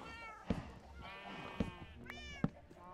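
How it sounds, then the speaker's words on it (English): A cat meows in Minecraft, a few short mewing calls over quiet game ambience, punctuated by three soft thumps like footsteps or block placement, faint overall. "Ooh, I hear you, kitty cat."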